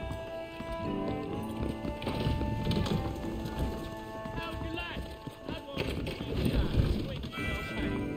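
Horse hooves clip-clop steadily in the video game Red Dead Redemption, a busy rhythmic clatter mixed with game ambience and voices.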